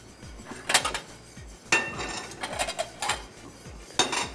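Clinks and clatters of dishes and cutlery in a kitchen while apples are chopped into small pieces, a few sharp knocks spaced irregularly, moderately close, with no talking.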